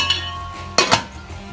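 A lid goes onto a pot of zarda, the sweet rice, in a home kitchen, making two quick metallic clinks close together against a low steady background hum.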